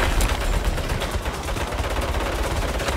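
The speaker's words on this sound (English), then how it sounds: "Turrets! Take cover!" Gun turrets open fire in the Saints Row video game, a dense, continuous burst of rapid automatic shots that stays loud and close for the whole stretch, with no voices over it.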